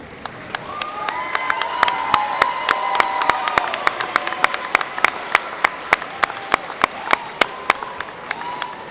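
Graduating class and audience at a 2024 high school graduation ceremony give a big, sustained round of applause with light cheering, a dense wash of clapping, with sharp individual claps standing out as it continues.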